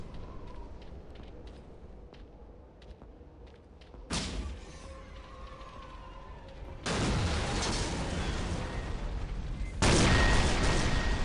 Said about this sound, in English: That is quite the explosion.